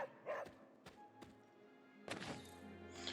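A pet dog named Charlie, a female, gives a few sharp barks and thumps at close range, scattered with quiet gaps between them.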